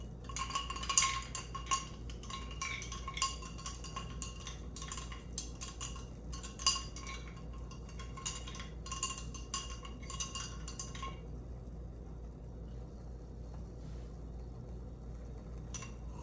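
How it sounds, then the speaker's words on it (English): A teaspoon stirs a mixed drink in a glass, producing quiet, rapid metallic clinks and taps against the glass for several seconds before falling silent. "And stir."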